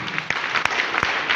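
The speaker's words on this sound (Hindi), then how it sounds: "सभी के लिए एक जोरदार ताली होनी चाहिए" Audience applause at a sales meeting, a loud dense burst of clapping with a few sharper individual claps standing out above the wash.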